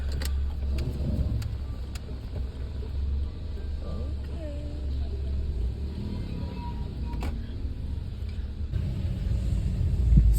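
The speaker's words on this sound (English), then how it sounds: "So that's the road. There, I think you see the potholes I was talking about. Like the car is literally shaking" A car jolts along a potholed road in Kampala, with a constant low engine and road rumble, loose items rattling and intermittent knocks from the uneven surface, while people talk inside.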